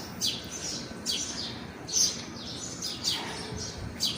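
Small birds chirp in short bursts of bright tweets, about four or five calls spaced roughly a second apart, fairly faint over quiet background noise with no talking.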